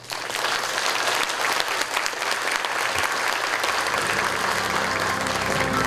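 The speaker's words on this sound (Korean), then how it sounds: "교육감님께 다시 한번 뜨거운 박수 보내주시기 바랍니다" Enthusiastic audience applause at a school vision proclamation ceremony, continuous heavy clapping lasting several seconds, loud and close, with a low hum of music entering toward the end.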